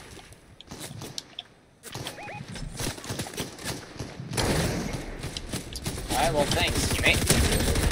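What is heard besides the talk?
gunshots in a video game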